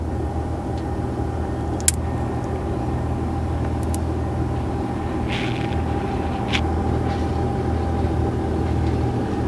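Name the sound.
diesel truck engine pulling up behind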